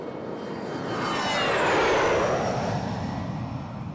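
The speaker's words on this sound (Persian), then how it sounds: "انجام پروازهای متعدد به منطقه رزمایش با هواپیمای بدون سرنشین و با سرنشین هست." A military aircraft passes during an army exercise, its jet roar swelling to a peak midway and then fading with a falling pitch as it flies past at moderate distance.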